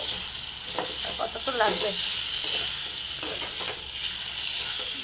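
Masala sautéed in a pan with egg and potato, giving a constant close sizzle with spoon scrapes and stirring clinks, and a brief voice speaking partway through.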